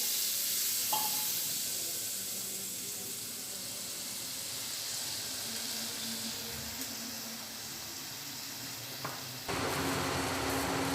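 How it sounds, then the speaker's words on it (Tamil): Lemon juice squeezed from eight lemons pours into hot oil with garlic for a garlic pickle, giving a steady sizzle and hiss throughout that jumps to a louder, brighter fry near the end. "லெமன் ஜூஸ் அந்த 8 பழம் புழிஞ்சு வச்சுருக்கோம், அதை நம்ம அதில் ஊற்றிக்கலாம்"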